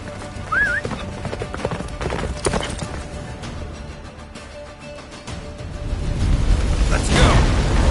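Geralt's horse Roach galloping through a blizzard in The Witcher 3, rhythmic hoofbeats with a brief whinny near the start, mixed with game effects and rising wind-like noise toward the end.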